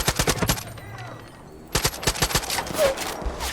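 Rapid bursts of automatic gunfire in the Far Cry 5 video game, loud and close, with a short pause before a second sustained volley resumes.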